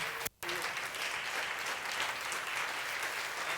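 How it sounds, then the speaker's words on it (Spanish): Steady applause from a church congregation during Spanish-language worship, a continuous broadband wash of clapping that breaks for a brief moment near the start and then carries on evenly to the end, with no speech over it. "Apláudele fuerte"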